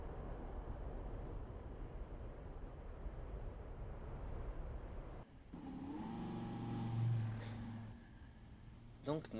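A car engine idles and then revs as the car pulls out of a garage in Need for Speed on Xbox One, a low rumbling drone that steadies into a smooth rising engine note.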